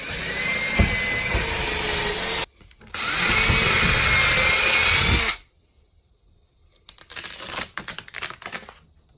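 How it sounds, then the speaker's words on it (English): Two loud, close bursts of a power drill boring holes for a Samsung TV mount, then quieter scraping and clicking handling noises once the motor stops. "I'm gonna drill a couple extra holes just to be safe."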